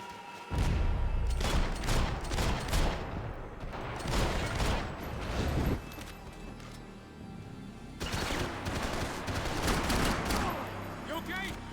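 Suppression gunfire in the Max Payne 3 video game, loud bursts of rapid automatic shooting in several separate volleys with gaps between, mixed with clanking impacts and occasional voices.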